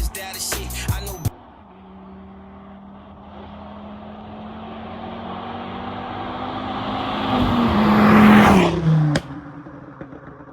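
A 2006 hatchback's engine revs and climbs steadily under acceleration, rising to a loud peak before easing off, with a brief burst of other noise at the start.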